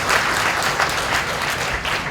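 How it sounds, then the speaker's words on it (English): Steady applause from a conference audience at an aquaculture symposium in Vietnam, dense even clapping from a large crowd sustained at a loud level throughout, with no speech over it. "Big applause please."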